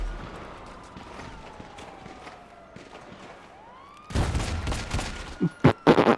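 Gunfire in the GTA Online video game, a quiet stretch with faint tones giving way to a dense loud burst of rapid shots and sharp cracks toward the end.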